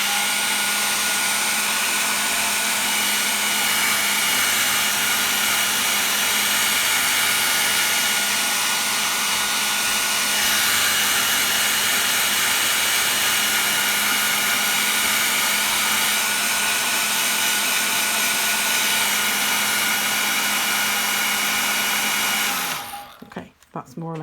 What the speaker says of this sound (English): I'm going to dry it off with a hair dryer to show you how quickly it dries.